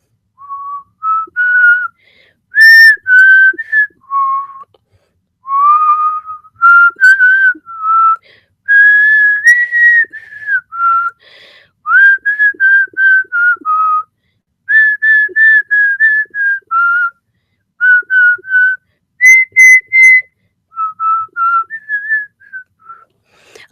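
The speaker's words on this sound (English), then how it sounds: "you whistle the Gravity Falls theme song?" A person whistles the Gravity Falls theme tune in clear, bright phrases of rapid notes separated by brief breaths, close and loud with no other sound behind it.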